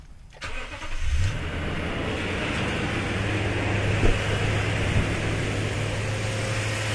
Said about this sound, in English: So I'm gonna start the car up.